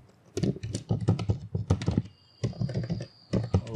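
A Python command is typed on a computer keyboard, quick close key clicks in bursts with short pauses between them and no voice.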